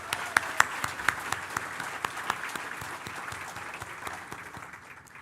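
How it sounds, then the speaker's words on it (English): Audience applause rings out at a college vision event honoring sponsors, a dense sustained clapping from a crowd in a hall, strongest at first and gradually thinning over about five seconds. "Big round of applause for all our sponsors"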